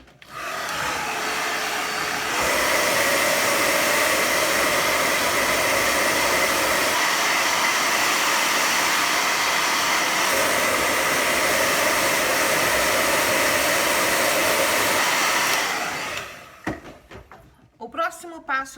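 A hair dryer blows steadily on a realistic fried-egg painting to dry the paint, running loud and continuous for around fifteen seconds before cutting off, with a few light knocks after it stops.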